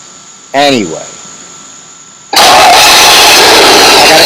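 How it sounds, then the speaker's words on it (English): A car engine cranks and starts close by: a brief whirring crank, a pause, then a sudden loud, steady roar of the running engine that continues to the end, with a voice at the start. "The car started."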